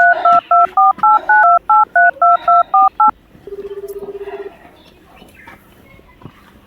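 Telephone keypad tones beep in a quick, even run of about eleven presses, each a loud, clear two-note chirp, followed by a short buzzing ring tone and faint background noise.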